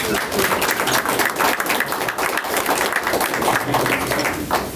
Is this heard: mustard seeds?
no